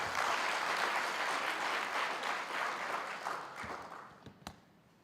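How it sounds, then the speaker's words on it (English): An audience at a TVET college policy conference in South Africa breaks into sustained applause, a dense steady clatter of many hands that gradually thins and fades out toward the end, with no speech over it. "Let's give a round of applause."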